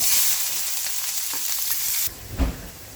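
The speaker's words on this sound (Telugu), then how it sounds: "మూడు స్పూన్లు ఆయిల్ పోసుకున్నాం. కరివేపాకు, ఉల్లిపాయ ముక్కలు, పచ్చిమిరపకాయ," Curry leaves, chopped onion and green chillies hit three spoons of hot oil, a loud close hiss that fades to a softer sizzle, then a single stirring thud near the end.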